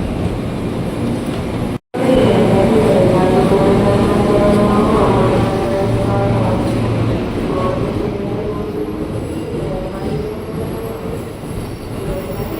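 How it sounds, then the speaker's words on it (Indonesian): KRL commuter electric train departing Juanda station in Jakarta, bound for Jakarta Kota: a steady, loud rumble of wheels and carriages with rising motor whine, continuing throughout after a brief cut near the start. "Komuter tujuan stasiun Jakarta Kota berangkat dari jalur 1 stasiun Juanda."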